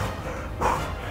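A white schnauzer gives a single short bark while restrained on a leash, rising briefly out of a steady low background at moderate loudness.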